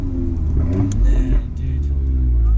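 A 2016 Audi S3 Sportback with a Milltek full exhaust and burble tune rumbles with a deep, loud idle and a short rev, while people talk over it.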